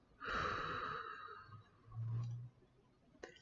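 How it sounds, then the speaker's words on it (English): A deep breath out during a guided group breathing practice: a long, soft, airy exhale swelling up and fading over about a second, followed by a lower breathy rush and a faint click, alone with no talking. "Big exhale."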